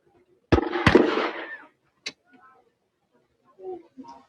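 Medieval cannon fired at the Tewkesbury battle re-enactment: one close, loud explosive blast with a sharp second crack, a rumbling decay, then a distant boom and faint crowd voices.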